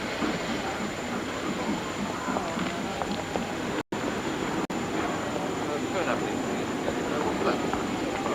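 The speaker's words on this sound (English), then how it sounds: "Where's that train going?" A train rumbles past close by, a steady broad roar with clattering that runs through the whole stretch apart from a brief dropout, with faint voices underneath.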